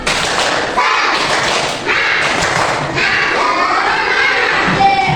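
A first-grade class of children in an Indonesian primary school clapping together in a fast rhythmic spirit clap, loud and close, with scattered shouts and cheering mixed in.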